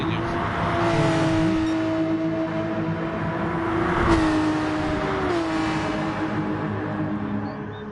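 Porsche race cars in a racing video game roar under hard acceleration, with engine notes rising and shifting as they run close together, loud and continuous throughout.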